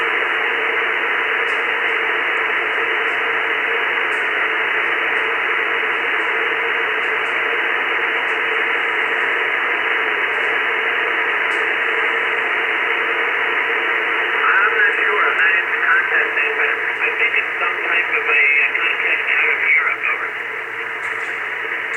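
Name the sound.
white noise from radio receiver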